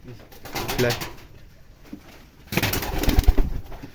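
Rajshahi Giribaz pigeons, including a roller hen, coo in soft low bursts near the microphone, with a quiet gap and then a louder stretch of cooing and fluttering over background murmur.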